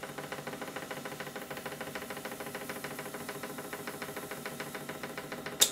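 Model steam engine turning over on compressed air, a steady rapid chuffing beat with light mechanical rattle running evenly throughout, ending in a sudden sharp burst.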